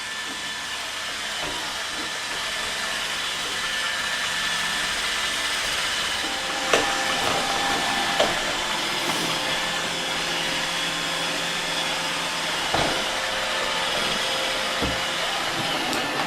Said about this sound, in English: It's a very quiet machine as well, compared to most vacuum cleaners.